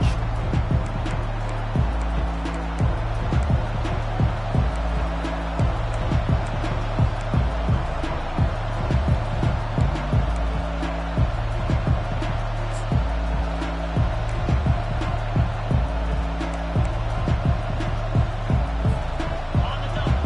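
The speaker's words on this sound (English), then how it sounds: "They challenge this crowd to bring the energy, and I'd say they're doing that." A stadium crowd at an Alabama college football game keeps up a steady roar of cheering and noise across the whole stretch, broad and sustained, with faint voices mixed in.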